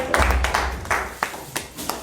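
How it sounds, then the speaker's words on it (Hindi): Applause at a political induction event in the Kashmir valley welcoming new party members, a scattered crowd clapping with a few sharp individual claps standing out and a voice heard faintly underneath. "एक बार जोरदार तालियों से इस्तकबाल किया जाए"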